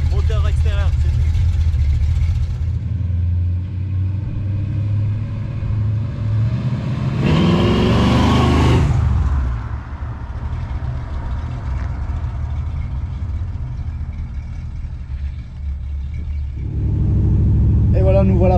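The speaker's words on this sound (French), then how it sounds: "nous voilà partis donc pour le petit essai routier avec Chevrolet Impala" A 1968 Chevrolet Impala four-door with a 5.7-litre V8 and straight-through exhaust rumbles deeply while driving, swelling into a loud rev midway before settling back to a steady low drone; someone talks over parts.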